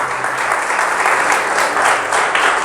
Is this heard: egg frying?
no